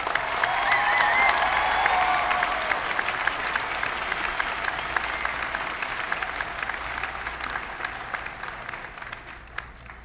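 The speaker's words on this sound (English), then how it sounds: "Let's give our master's graduates another round of applause" At a WGU commencement ceremony, a large crowd applauds the master's graduates, starting loud with a few cheers, then gradually thinning into scattered individual claps as it fades out.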